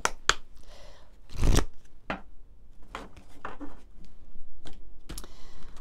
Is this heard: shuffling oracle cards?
yes